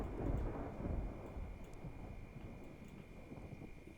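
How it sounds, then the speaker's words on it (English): Thunderstorm in Project Zomboid: a low, broad rumble swells loudly at the start and then rolls on more softly under steady rain-like hiss, with no voices. "hopefully, come the morning, this storm will have passed for Paddy"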